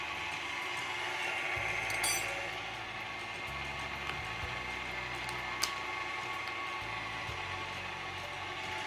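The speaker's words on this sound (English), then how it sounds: "I will have all 6 eggs in the bowl of a mixing machine." A stand mixing machine beats six eggs in its bowl, giving off a steady mechanical whir with a low motor hum that shifts pitch a few times and a few faint clicks and ticks.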